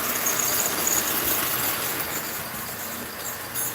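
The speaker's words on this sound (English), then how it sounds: "We're gonna let the sweeper man hang out, and we're gonna let the train run." A model train runs along its track, giving off a steady high squealing whine and a continuous mechanical rumble at close range, with no talking.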